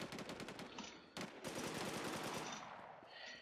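Rapid machine gun bursts in the online survival shooter game Infestation The New Z on a European server, loud close rattling volleys with a brief gap before a longer sustained burst that trails off.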